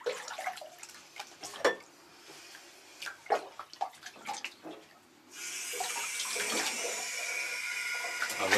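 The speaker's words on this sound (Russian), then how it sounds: "А зачем кран включил?" After a few scattered knocks and splashes, a tap suddenly opens and water pours steadily into a bathtub, a loud, even hiss that runs to the end.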